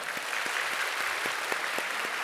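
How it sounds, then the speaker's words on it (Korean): A church congregation applauds after a baptism during a Sunday worship service, giving a soft, distant, even patter of many hands that runs steadily without speech. "앞에 서시고 우리 인사하실 때 우리 박수로 축하해 주시기 바랍니다."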